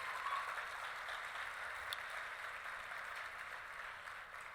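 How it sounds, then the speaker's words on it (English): Distant gala audience applause, a steady wash of many hands clapping, continuing evenly throughout. "we should give them a big round of applause"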